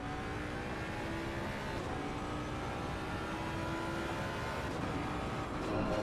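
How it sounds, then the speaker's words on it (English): A Ford Mustang race car in a racing video game at the Hungaroring, its engine droning loud and steady with a whining tone that climbs gently, joined by whirring from nearby cars, without talk. "the sound of the Mustang"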